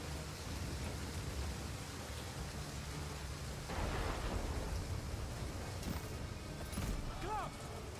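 A thunderstorm with heavy rain rages in the battle strategy game Total War: Pharaoh, a dense roaring wash with low rumbling thunder swelling midway, while voices call out over it.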